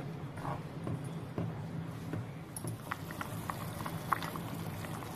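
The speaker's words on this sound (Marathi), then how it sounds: "आता पहा, भाजी अगदी व्यवस्थित उकळलेली आहे." Colocasia leaf curry in buttermilk simmering in a pot, soft irregular bubbling and faint pops at close range over a low steady background, gently rising and falling with a few sharper blips.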